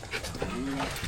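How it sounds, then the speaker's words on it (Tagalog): A dog pants in quick, breathy bursts close by, with a faint whimper mixed in. "Baka makagat tong aso."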